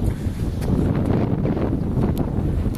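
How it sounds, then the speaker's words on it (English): Wind on the coast at Skerries buffeting the microphone, a steady loud rumbling roar with gusty variation and no speech. "the wind's picking up a bit"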